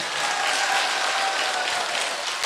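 Audience clapping at a Buddhist temple celebration in Bà Rịa, Vũng Tàu after a singer's performance, a steady, dense round of applause filling the whole moment without pause.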